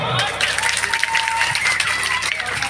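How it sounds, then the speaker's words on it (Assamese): A crowd at the Udalguri Raas festival claps steadily, a dense wash of applause that keeps up at an even level for the whole moment. "এটা জোৰকৈ হাত চাপৰি বিচাৰিম আপোনালোকৰ পৰা।"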